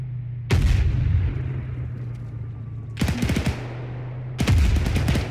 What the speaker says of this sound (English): Mortars! Gain cover, gain cover.